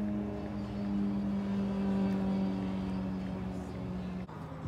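A motorbike engine runs steadily with a friend riding along, a sustained low droning hum that stays even and close before cutting off near the end.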